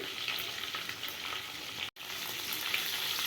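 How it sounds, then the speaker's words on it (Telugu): Chopped green chillies fry in a pan of hot oil after a spice tempering, giving a continuous bright sizzle with small crackles. A short gap breaks the sound midway, and nobody speaks. "ఇవి కొంచెం ఫ్రై అవ్వాలండి"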